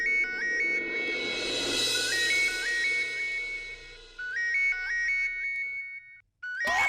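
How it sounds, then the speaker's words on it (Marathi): A cellphone ringtone plays as a repeating melodic chime pattern, loud and close, cycling several times with brief gaps, set against faint background murmur in a Marathi comedy sitcom scene. "ही रिंग कुठे वाजते?"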